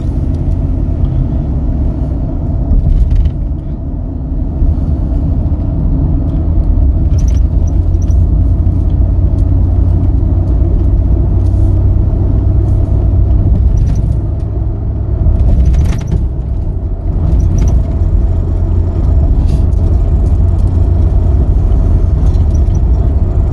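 A V8 engine rumbles steadily from inside a moving 2021 Ford F250 STX 4WD Crew Cab pickup, a deep continuous drone with road noise and occasional small rattles.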